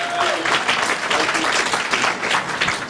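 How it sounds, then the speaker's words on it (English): Audience applause at a speech, a steady wash of clapping from a crowd that stays fairly loud for the whole three seconds, with some voices mixed in faintly. "So please clap for my second husband, Earl Harvey."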